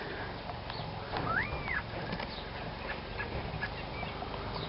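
A blackbird calls nearby with a clear whistled note over steady background hiss, followed by a few fainter chirps.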